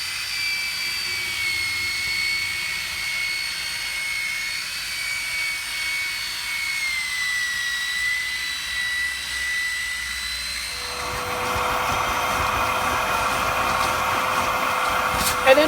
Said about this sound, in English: And then finally, a thorough vac.